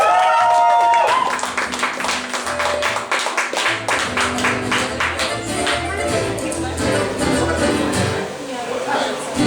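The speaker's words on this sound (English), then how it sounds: "Give him a round of applause" An audience applauds a performer named Jason as he is welcomed onto the stage at a live show. Dense, rapid clapping rises to a loud burst and continues under talking.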